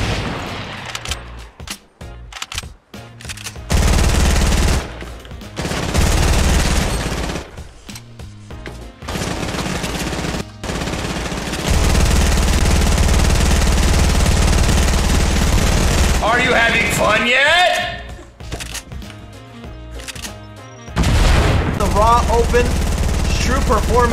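A P90 in Fortnite shredding through built materials, with long rapid bursts of automatic fire broken up by short pauses, loud and close, mixed with cracking wood and other battle noise.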